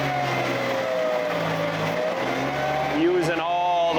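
The engine of a walk-behind MT mini skid steer fitted with a Hydra bucket, running steadily and close while the machine reverses, with a droning hum that shifts pitch toward the end.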